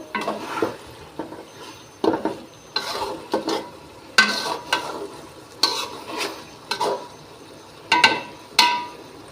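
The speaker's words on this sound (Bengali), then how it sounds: "তার সাথে আলু অ্যাড করে দিব দেখুন চিকেনগুলো সুন্দর করে কষিয়ে নিচ্ছি" Chicken pieces and potatoes stirred and sautéed in a pan while cooking chicken biryani, with repeated sharp scraping strokes of a utensil over a steady close sizzle, in irregular bursts throughout.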